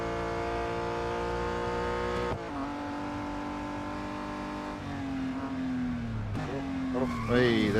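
A car laps a circuit in the racing game Real Racing 3, its engine droning loud and steady, dropping and rising through gear changes, with tire squeal near the end.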